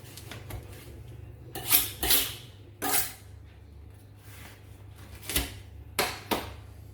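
Ordinary kitchen knife slicing crispy garlic bread, giving a string of dry crunching scrapes and light clicks of the blade against a board, fairly close and moderate in level over a steady low hum, with no voices.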